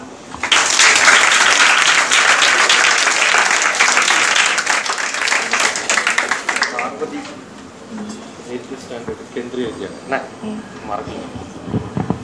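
A crowd of students at an IAS coaching session in Kottayam breaks into loud, sustained clapping for a schoolgirl, which holds strongly for several seconds, then thins out and gives way to someone talking.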